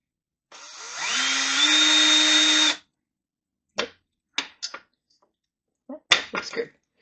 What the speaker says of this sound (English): for a 6mm tap, use a number 10 drill